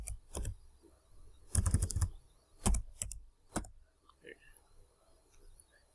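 Code being typed on a computer keyboard in a quiet room, several separate bursts of rapid clicking keys with short pauses between, close and fairly soft.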